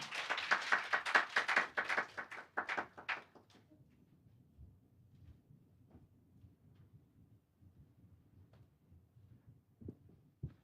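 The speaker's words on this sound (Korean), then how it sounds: "나오실 때 큰 박수 부탁드리겠습니다." Applause from an audience at a 2024 SDG data innovation forum session, a burst of clapping in the first three seconds that fades quickly, leaving low room hum and a few faint taps.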